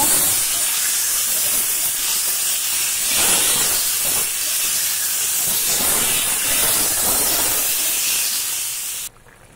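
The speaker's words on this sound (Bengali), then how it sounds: "জল দিয়ে দিয়েছি, দেখো ফুটছে এখন" A constant loud hiss of steam and bubbling from bhetki fish curry boiling in a pan, cutting off abruptly just before the end.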